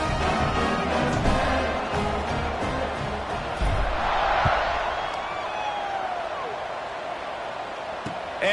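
A football stadium crowd roars and cheers before a kickoff, a dense, continuous wall of voices with a commentator's voice speaking over it.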